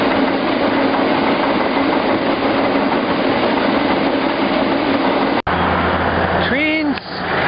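Freight train passing near Portland, a loud continuous rumble and rolling roar that cuts off abruptly, followed by quieter engine hum and a brief squealing screech.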